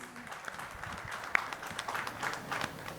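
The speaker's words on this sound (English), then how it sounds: "Huge round of applause." Audience applause at a session on seed standards and certification, a soft, brief patter of clapping heard at a distance and fairly faint.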